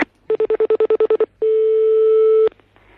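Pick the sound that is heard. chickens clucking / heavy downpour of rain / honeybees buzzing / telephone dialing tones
telephone dialing tones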